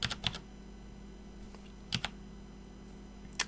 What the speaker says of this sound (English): So for this case we would just type in the IP address